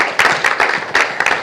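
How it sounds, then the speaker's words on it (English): An audience at a university talk applauds briefly, with a short run of close, uneven clapping bursts. "clap, clap, clap, clap, clap."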